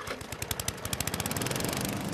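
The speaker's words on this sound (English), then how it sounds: "There's only one place you'll hear lawnmowers this far from land" A lawn mower engine runs with a rapid, even chugging pulse, loud and close, with no voices.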